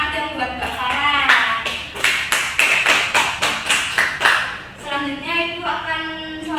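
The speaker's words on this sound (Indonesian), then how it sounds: "tepuk tangan dong buat Mbak Farah" A small class gives a brief round of applause for a student after a microteaching presentation, a few seconds of close hand claps between stretches of a speaking voice.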